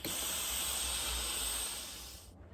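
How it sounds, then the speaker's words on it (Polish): A Philips PSG8140 Perfect Care 8000 series steam generator iron releases a strong, steady hiss of steam at close range, holding evenly for about two seconds before cutting off abruptly. "Zobaczcie teraz, jak wygląda para."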